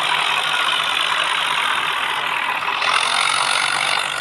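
A Swaraj tractor engine drones steadily close by while towing a John Deere tractor downhill, a continuous loud mid-pitched rumble with slight variations as the machine strains along.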